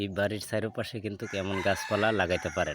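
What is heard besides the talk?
rooster crowing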